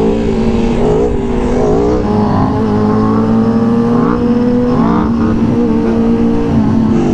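A stock-geared 1100 stunt motorcycle engine in first gear drones loud and close with a continuous throaty rumble that rises and falls slightly in pitch as it pulls.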